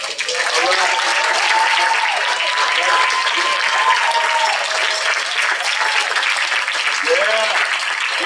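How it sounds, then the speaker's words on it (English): A Juneteenth audience in the City of Miramar applauds after a spoken-word performance. The clapping is loud and steady for the whole stretch, with voices calling out over it. "Give it up for Delbo Speaks"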